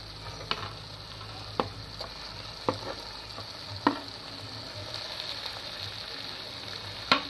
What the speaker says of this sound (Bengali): এবার এর মধ্যে আমি দিয়ে দিচ্ছি ভেজে রাখা কপিগুলো।